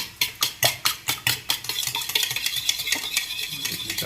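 Eggs for egg rice are stirred and mixed, with quick, regular scraping strokes close by that start as distinct beats and blur into continuous fast churning.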